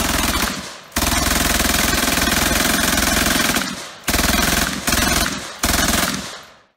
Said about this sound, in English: Yeah, this is MG42 in action